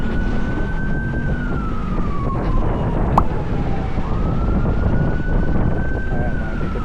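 Fire truck sirens wail at a fire in Pasig, a loud rising and falling tone sweeping up and down over heavy road and engine rumble, continuous and close.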